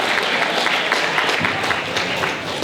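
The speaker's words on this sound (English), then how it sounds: "Speaker candidates a warm round of applause" A school student-government debate audience gives the speaker candidates a warm round of applause, a loud, sustained wash of clapping with crowd murmur mixed in.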